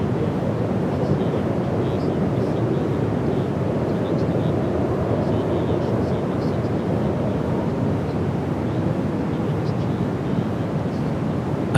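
An airplane takes off at Perth Airport, and its engines make a steady, loud broadband roar with wind-like rumble that continues unbroken throughout, with no voices heard.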